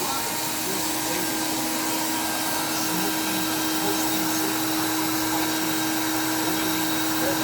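A 1989 Hoover Dimension 1000 canister vacuum, model 3277-40, converted to a backpack unit, runs with a steady, even motor drone and airflow rush, unbroken and close.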